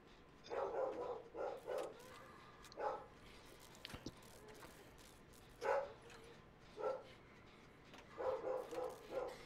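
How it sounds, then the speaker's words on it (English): Dog barking at a distance, in scattered single and doubled woofs with gaps between them, moderately faint over a quiet background. "I don't know what the dog's barking about."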